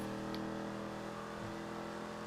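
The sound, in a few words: Dominator car accelerating in video game GTA 5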